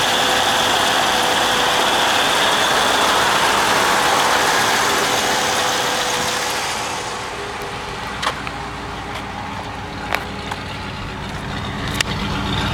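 A 1954 Cadillac Series 62 Coupe engine idles after a cold start with a steady, broad rumble for several seconds, then drops quieter with a few faint clicks and ticks over the low hum.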